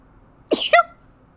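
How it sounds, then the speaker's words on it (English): A single sharp sneeze bursts out close to the mic, a quick two-part blast with an airy onset and a voiced tail, in an otherwise quiet room. "You were just sneezing 1 second and the next"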